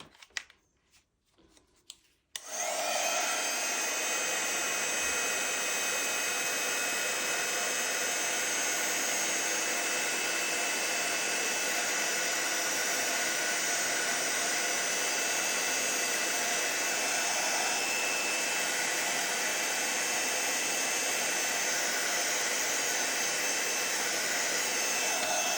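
Heat tool blowing over a card to melt embossing powder on a stamped image, switching on after a brief quiet start and then holding a loud, steady hiss and whir for over twenty seconds.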